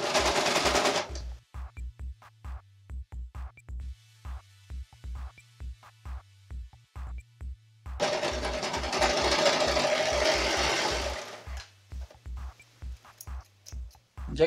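A sewing machine stitches the crotch seams of men's jogger pants in quick mechanical bursts of rapid thumping, pausing between runs, with louder rustling of fabric at the start and again midway.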